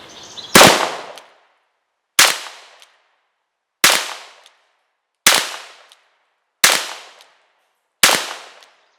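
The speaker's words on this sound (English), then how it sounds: "So we're shooting 170 grains of lead." Six loud, sharp shots from a 5-inch Ruger GP100 .357 Magnum revolver firing 170-grain lead bullets at an HP OfficeJet 330 fax machine, evenly spaced about every one and a half seconds, each with a short ringing decay into silence.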